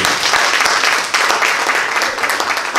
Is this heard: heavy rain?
no